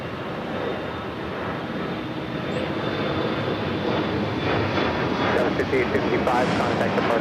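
A jet airliner rumbles and roars on runway 25 right at LAX, a broad steady engine noise building slightly as it takes off, heard at a distance with radio-style talk over it.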